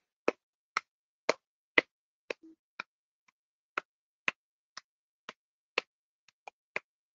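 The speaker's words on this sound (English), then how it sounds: "I can clap my hands." Hands clap about fourteen times in a steady, even rhythm, each clap sharp, crisp and close, with near silence between them.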